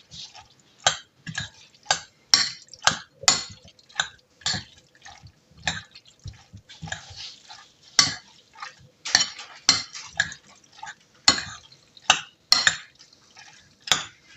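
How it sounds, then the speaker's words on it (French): Egg yolk and pasta being stirred for carbonara in a pan, with a steady run of sharp metallic utensil clinks and scrapes against the pan, close and fairly loud, repeating in an irregular rhythm with no talking. "On remue."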